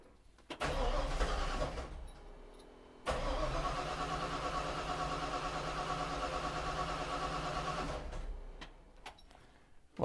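Old carbureted car in a cramped garage, the engine cranking briefly, catching and settling into a steady close idle for several seconds before shutting off.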